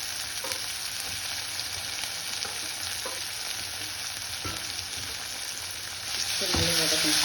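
Garlic and onions frying in oil with curry leaves, a constant dense sizzle with occasional stirring clinks, close and fairly loud, swelling louder toward the end, with no talking.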